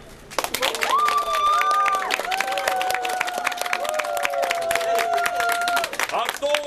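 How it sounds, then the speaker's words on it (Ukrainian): Wedding guests applaud together in a hall, a dense burst of clapping with some cheers that holds steady for several seconds and then tapers. "Ваші оплески!"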